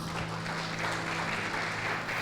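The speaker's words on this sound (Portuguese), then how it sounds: "Vamos aplaudir ao Senhor." Church congregation claps together in a dense, continuous wash of applause, fairly soft and distant, with a low steady hum beneath and no one talking.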